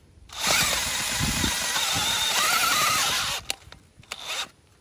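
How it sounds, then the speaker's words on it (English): A large power auger drills into rocky, hard clay soil with a loud, steady grinding whine for about three seconds. It then cuts out, followed by a few scraping knocks and a brief final burst. "This big auger does better with the bigger handle."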